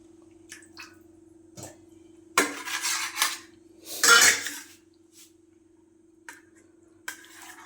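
A kitchen knife chopping goat brain into small pieces on a board, with a few light taps followed by two denser bursts of cutting and scraping, close up over a low steady hum.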